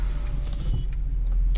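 Audi A3 and Mercedes C200 in sports mode roaring and accelerating nearby in a drag race, a steady, throaty rush with no talking.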